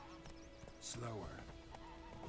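A horse in The Witcher 3 lets out a loud whinny mid-clip amid hoofbeats, with a voice speaking around it.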